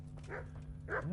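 A dog in the video game Kingdom Come gives two short barks over a steady low game ambience, moderately close, with no talk.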